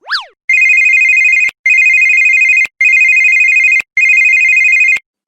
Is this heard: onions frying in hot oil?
no